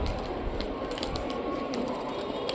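Tumbler pigeons of an old Rajshahi performing breed at a home loft coo steadily, with clicky wing and feather sounds scattered through the fairly loud, close scene.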